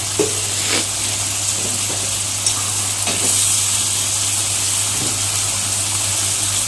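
Ghee added to a hot pan while frying chicken masala, giving a steady, loud close sizzle with faint scraping and stirring clicks throughout, no talk.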